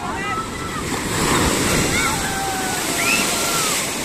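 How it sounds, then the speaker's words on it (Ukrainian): Ocean surf surges and crashes onto the shore at Puerto de Santiago, Tenerife, during a high incoming tide, a loud, continuous wash with wind buffeting the microphone and faint calls above it. "Дивіться, яка тут хвиля."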